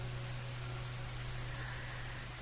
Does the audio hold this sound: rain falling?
yes